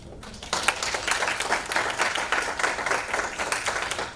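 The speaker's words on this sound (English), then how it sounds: "the public owes them a round of applause before we go any further" A round of applause breaks out at a school board meeting, steady dense clapping from a seated audience that starts abruptly and carries on evenly, moderately near and without talk.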